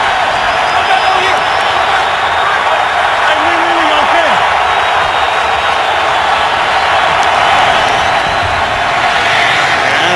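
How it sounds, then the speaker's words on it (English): Dense, steady roar of a stadium crowd at an NFL football game, Dolphins at Bengals, swelling as the home fans come to life on third down, continuous and loud with commentary voices over it. "This crowd coming to life."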